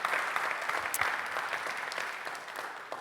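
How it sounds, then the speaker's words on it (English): A recovery meeting audience gives a sustained round of applause after mini testimonies: a dense, even, fairly soft patter of many hands with no voices on top. "I just want us to give them a big round of applause"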